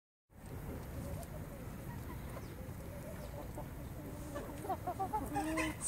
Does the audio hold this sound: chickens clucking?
yes